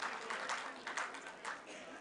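An audience at an international Punjabi conference applauding, a continuous spread of clapping from many hands under a faint voice, moderately loud and filling the room.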